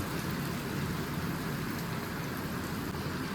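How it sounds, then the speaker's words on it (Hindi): Steady rain hisses down on surfaces, a constant dense patter heard up close without any breaks or voices. "बाहर बारिश चल रही है"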